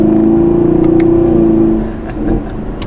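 A 2019 Chevrolet Camaro SS V8 with a 10-speed gearbox accelerates from inside the cabin, its engine a loud, steady drone that eases off slightly near the end, with no talking.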